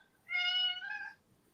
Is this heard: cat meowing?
yes